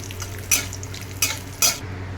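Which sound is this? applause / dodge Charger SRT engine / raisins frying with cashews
raisins frying with cashews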